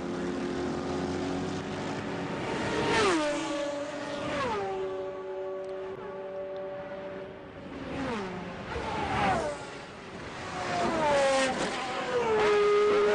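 Mercedes-Benz CLR and other racing engines scream past in waves as the race resumes after a safety car, pitch sweeping down as each car passes, with several cars close together and revs rising and falling.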